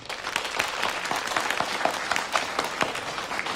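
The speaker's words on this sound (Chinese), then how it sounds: "大家鼓掌欢迎" A meeting audience claps steadily, a dense patter of many hands applauding throughout without speech.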